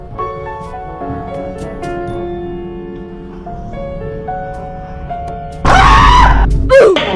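A person shrieks loudly after being startled by a ghost prank, a sudden piercing scream over background music lasting about a second and a half, then a shorter cry.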